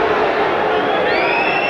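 A boxing arena crowd grumbling in disapproval at ringside during Nigel Benn vs Mauro Galvano, a dense, loud, continuous roar of voices with a whistle rising near the end.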